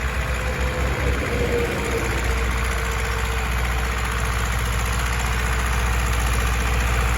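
An MTZ-80 tractor engine runs steadily with a low, continuous diesel rumble and idling drone while disc harrowing a field in spring, heard close and alone with no talk.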